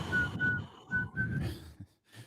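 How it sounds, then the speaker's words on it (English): A person whistles a short, simple tune of a few sustained notes with small pauses between phrases, close and fairly quiet. "just gonna start the show whistling"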